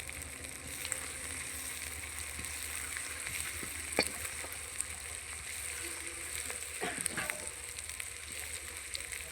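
A tadka for amla pickle fries in oil over low heat, giving a soft, continuous sizzle with scattered small pops and stirring scrapes, heard faintly and without talk.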